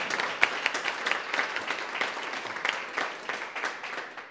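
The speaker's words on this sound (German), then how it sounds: "Ja, auch ein Applaus wert für unseren Peter Scheirer" A studio audience at a sports talk show applauds, a steady burst of clapping from a modest crowd held at an even level throughout.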